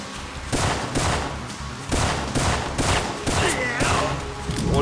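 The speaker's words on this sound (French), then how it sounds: "Alors là, ils ont des fusils avec une lunettes infrarouge." Rapid bursts of rifle fire from infrared-scope sniper rifles in the video game Syphon Filter, loud repeated volleys in uneven rhythm over a dense, steady background of game noise.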